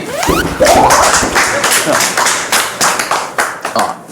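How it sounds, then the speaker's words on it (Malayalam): People clap their hands in an indoor comedy scene, a burst of several quick claps followed by slower, uneven claps mixed with voices and background chatter, close and loud. "കൈയടിക്കേ"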